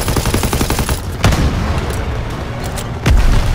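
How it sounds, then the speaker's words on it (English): Booming blasts and gunfire in the World War II shooter Call of Duty WW2, a rumbling battle bed with two heavy explosions punching through, loud and close. "Explosive weapon everywhere."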